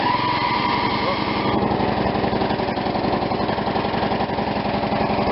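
A Craftsman 42-inch lawn tractor's small gasoline engine catches and runs, a loud rapid pulsing chatter that settles into a steady buzzing drone right up close, with faint talk beneath.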